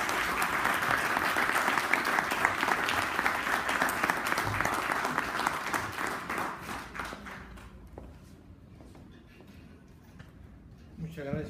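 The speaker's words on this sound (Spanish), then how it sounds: "recibámoslo con un fuerte aplauso" An audience gives a strong round of applause to welcome a speaker at a formal public event, dense steady clapping for about seven seconds that then thins and tapers off into a quieter room.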